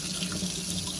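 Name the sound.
water running from an upstairs tap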